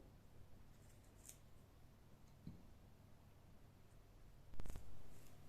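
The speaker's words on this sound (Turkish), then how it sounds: "Şu yeşil kısımlarını keselim." Faint snips as the green stems are cut off washed strawberries in a home kitchen, a couple of brief, soft cuts spread out, with a slightly louder clipping burst near the end.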